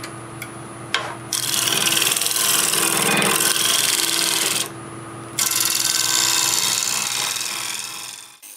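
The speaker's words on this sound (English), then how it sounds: "I'm going to take a negative rake scraper and clean that up" A negative rake scraper cuts a spinning black locust wood bowl on a lathe, giving loud, close rasping and scraping over a low motor hum. The sound comes in two long passes separated by a short quieter gap, with no speech.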